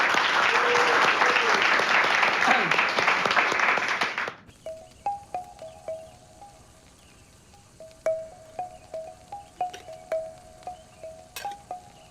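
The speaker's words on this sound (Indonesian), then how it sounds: "Tepuk tangan buat Babin kita." Audience applause for a newly posted village police officer at an Indonesian ceremony, a dense burst of clapping that stops abruptly after about four seconds, followed by quieter ambience with faint bird-like chirps.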